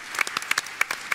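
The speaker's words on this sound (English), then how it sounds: "People are supposed to clap there." Audience applause breaking out at a live presentation of a horror video game character reveal, a short burst of scattered, fairly quiet clapping.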